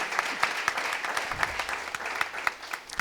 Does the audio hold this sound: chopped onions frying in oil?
no